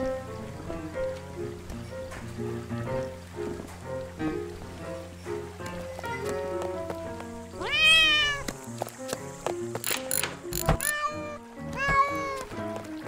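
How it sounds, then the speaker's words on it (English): Several cats meow and yowl as they are stepped on in the heist video game Monaco, sharp rising cries over continuous background music. "I'm about to step on a bunch of cats."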